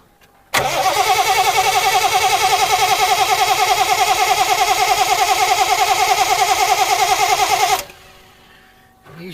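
A Triumph TR6 classic car's engine, suffering fuel injector trouble, runs steady and close with an even pulsing drone for several seconds, then cuts out abruptly into near silence.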